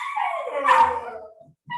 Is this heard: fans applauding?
no